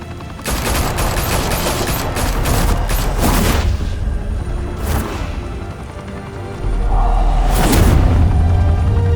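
Gunfire erupts in Batman: The Telltale Series: a loud, rapid volley of shots with booming impacts, easing briefly before another heavy burst and low thump near the end.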